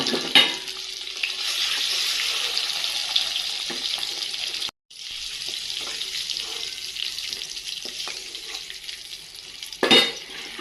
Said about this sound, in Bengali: এই যে এইভাবে হালকা করে ভেজে নিয়ে আমি ডিমগুলো এবার